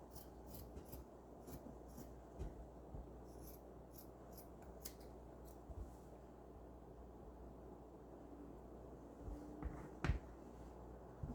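Scissors snip through sweater fabric at a kids' neckline in a string of quiet, close clipping strokes, steady but soft against a faint background hiss, with no talking.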